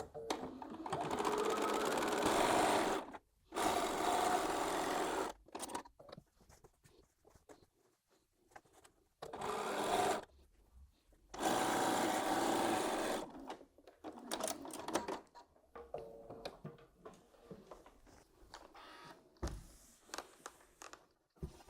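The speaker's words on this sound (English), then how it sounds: "So I'm just going over to the sewing machine to join these." A sewing machine stitches quilt block fabric in several loud, rapid bursts of whirring, separated by pauses, with quieter handling noises toward the end.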